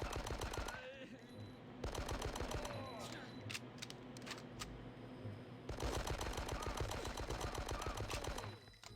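Rapid automatic gunfire from the Die Hard: Nakatomi video game comes in loud, dense bursts, dropping briefly to scattered lighter shots midway before the heavy firing resumes.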